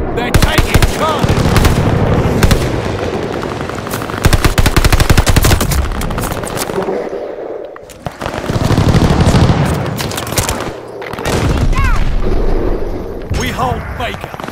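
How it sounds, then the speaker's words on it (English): In Call of Duty Vanguard multiplayer, an enemy aircraft strafes with loud rapid bursts of machine-gun fire and booming impacts. The bursts come in waves with brief lulls between them, and game voice callouts sound underneath. "Hostile strafe inbound."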